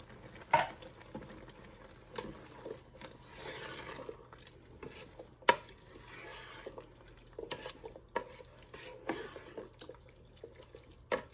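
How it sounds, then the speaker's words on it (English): Canned kidney beans poured into a cooking pot in a home kitchen. Soft, faint wet pattering and splashing, with a few sharper plops standing out against quiet kitchen background. "now we go ahead and pour our kidney beans in here"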